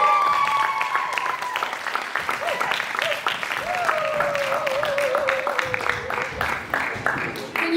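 Sustained audience applause and cheering at a spoken-word poetry night, dense clapping throughout with whoops and voices rising over it, loud and close.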